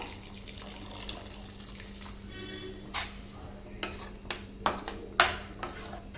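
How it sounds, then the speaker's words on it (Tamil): Water is poured into wheat flour in a kitchen while making chapati dough, a soft running splash under a low hum, followed by several sharp clinks and knocks of utensils. "இது கூடவே திருப்பி ஒரு அரை டம்ளர் தண்ணி சேர்த்திக்கலாங்க"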